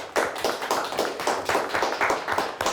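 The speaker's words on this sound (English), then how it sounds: "Let's give them a nice round of applause." Quiz show audience applauding a student quiz team, a short close burst of rapid, bright clapping that holds steady and loud for a few seconds with no talk over it.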